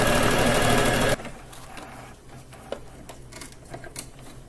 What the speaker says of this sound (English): just sew that all the way around, just to create a line of double stitching